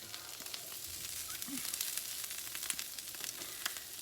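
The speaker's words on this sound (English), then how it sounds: "you just fry it up until the onions gets translucent" Onions frying in a pan make a faint, even sizzle with soft scattered crackles that runs on quietly throughout, with no voices.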